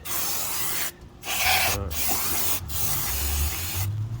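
Several bursts of aerosol spray hissing close by onto new rear brake discs of a 2018 Audi S3, separated by short pauses, with no voices.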